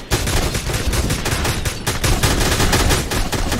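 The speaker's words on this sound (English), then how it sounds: "Somebody shooting the beaver." Gunfire in the survival game Miscreated: rapid, loud bursts of automatic shots in a continuous volley, fairly close, with almost no talk.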